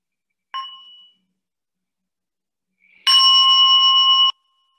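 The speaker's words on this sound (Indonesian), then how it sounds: "Saya ngundang bel dulu ya buat kita sekarang ini" A mindfulness bell is invited: a soft brief tap first, then a clear, sustained ringing tone that holds for about a second before stopping, alone in quiet.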